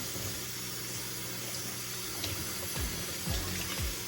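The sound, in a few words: water running while rinsing hair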